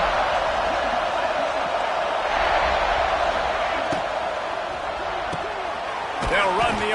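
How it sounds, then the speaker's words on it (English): Stadium crowd roaring steadily at a football game, a dense continuous wash of many voices with a few sharp thuds and a swell near the end, heard under commentary. "This crowd trying to make life miserable for this offense."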